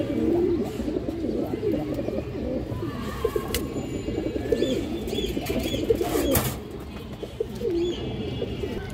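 Pairs of pure-bred pet pigeons coo steadily in a loft, many birds overlapping in a close, continuous throaty burble, with a few brief sharper sounds and no talking.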